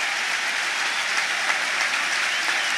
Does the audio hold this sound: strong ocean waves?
no